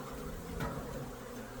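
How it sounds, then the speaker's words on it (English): Honey bees buzzing over an open hive as they are shaken back inside, a faint, steady low hum with a brief soft thump partway through. "we can shake those bees back in"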